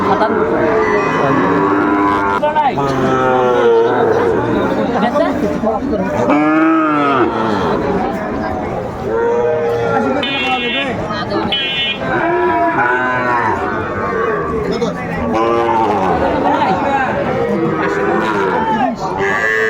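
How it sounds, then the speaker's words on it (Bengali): Cattle at a Sylhet market where Sahiwal bull calves are sold, repeated loud moos from close animals overlapping with constant haggling voices and crowd noise throughout. "শাহিওয়ালের মধ্যে ষাঁড় বাচ্চা।"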